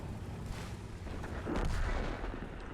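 Cannon fire from the M103 tank in the video game World of Tanks, a dense, booming blast that swells and rumbles loudly through the whole stretch without talk.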